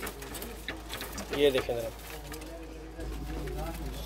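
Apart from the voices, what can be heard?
pigeons cooing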